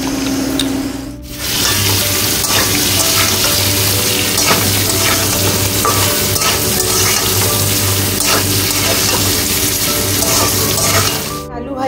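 Potatoes frying in a pan for a biryani, a loud, dense sizzle that runs almost without a break, with small crackles and stirring scrapes, dipping briefly near the start and end.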